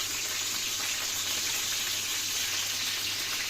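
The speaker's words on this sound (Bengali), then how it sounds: "ঢাকা দেবো না, আর শুধু ফোটাবো, ফুটিয়ে নামিয়ে নেব।" Mutton simmering uncovered in a pot, a steady, close bubbling hiss with a faint low hum underneath, continuous and even throughout without any talking.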